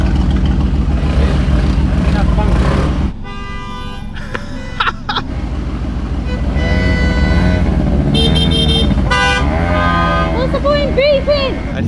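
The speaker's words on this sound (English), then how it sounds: "Everyone's beeping." Car horns beeping on a narrow Italian road amid impatient traffic and scooters, heard from inside a small turbocharged 1-litre Micra: loud steady engine and road noise with repeated short honks and tones, and voices talking over it.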